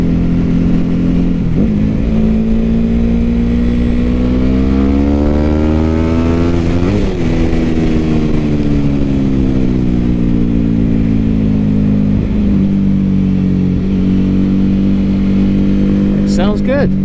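A 2006 Ducati 749 motorcycle is ridden with its loud exhaust droning steadily, rising and falling in pitch through the gears, heard up close under wind noise.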